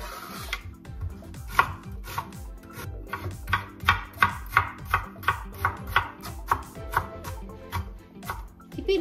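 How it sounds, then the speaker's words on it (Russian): A knife chops a very large onion into small cubes on a board, a fast, even run of crisp close knocks sustained for several seconds without talk. "Берем большущую луковицу. Нарезаем ее мелким кубиком."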